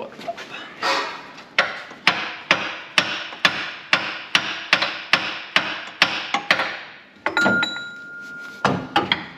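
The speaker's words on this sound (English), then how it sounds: "I need a heavy hammer." A heavy hammer pounds repeatedly on a 1964 Rambler Ambassador 990 during water pump removal, about fifteen sharp metallic strikes in a steady rhythm, close and loud, with a brief ringing tone near the end.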